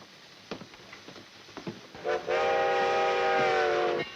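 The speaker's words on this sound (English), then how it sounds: "Always is when the train comes in." A few scattered clanks and knocks lead into a long, loud, sustained train horn blast that holds steady for about two seconds.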